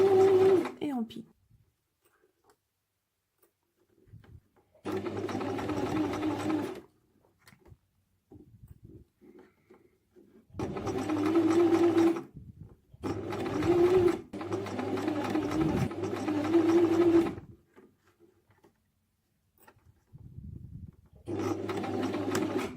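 A domestic sewing machine stitches a fabric bag organiser in several bursts of steady, rapid whirring, close by, with someone talking in the quiet pauses between runs.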